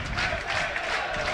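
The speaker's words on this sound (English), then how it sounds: "Listen to the crowd, fantastic noise at Turf Moor" Football crowd at Turf Moor during a Premier League match between Burnley and Tottenham, a loud, steady roar of applause and cheering from the stands with faint speech over it.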